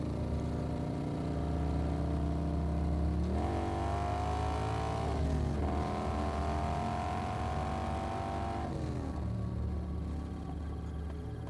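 A motorcycle engine drones steadily as it speeds along, its pitch rising and dropping with gear shifts and throttle changes.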